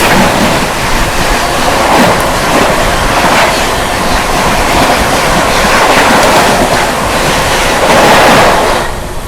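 The New Delhi–Dibrugarh Rajdhani Express, train 12424, roars past at close range as a loud, steady broadband rush with faint wheel clatter running through, easing slightly at the very end.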